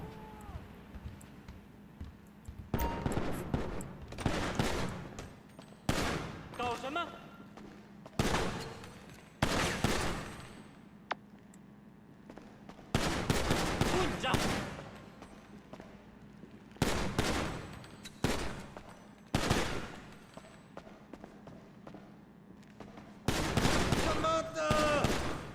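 Bursts of video-game gunfire ring out at a shooting range, with repeated loud volleys and rapid strings of shots separated by short quiet gaps.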